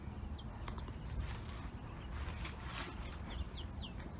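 Soft clucking and chirping from a group of young chickens in a pallet-wood coop wrapped in chicken wire, with occasional high peeps over a steady low background rumble.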